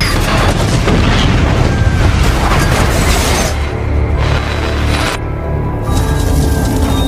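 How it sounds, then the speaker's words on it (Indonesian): A car explodes in a loud, roaring blast with heavy rumbling and debris-like crackle, gradually dying down into a fading rumble. "Joe terus menembaki mobil Frank sampai membuat mobil Frank meledak tepat saat melintas di garis finish."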